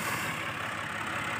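A farm tractor engine idles in a steady, continuous low rumble, close by and unchanging, with no voices.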